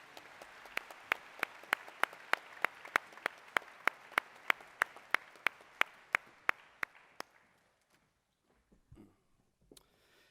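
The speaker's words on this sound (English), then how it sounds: "Let's give them one more round of applause," An audience at a Veterans Day ceremony claps for a school band and choir in slow, evenly spaced unison beats. The rhythmic claps gradually fade and stop, leaving near silence with a few faint rustles.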